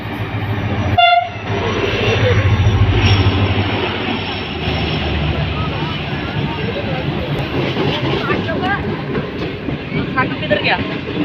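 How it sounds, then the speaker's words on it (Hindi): A train rolls past at a railway crossing while the Bahauddin Zakariya Express waits stopped, with a short horn blast near the start and then a continuous rumble and clatter of wagons that stays loud close by. "2 ट्रेनों को क्रॉसिंग दी थी और अभी तीसरी सामने आ रही है"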